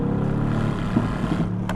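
A Mercedes-AMG GT facelift V8 holds a loud, steady engine drone with harmonic layers and a few small crackles near the end, close and continuous, with no talk.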